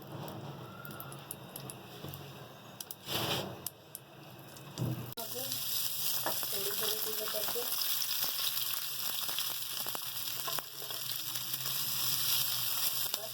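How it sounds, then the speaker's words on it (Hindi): Desi ghee sizzling in a pan for frying while making shahi sheer khurma, quiet at first with a few clatters, then a steady, loud hiss of frying that carries on to the end. "1 चम्मच देसी घी डाल ली हूँ फ्राई के लिए"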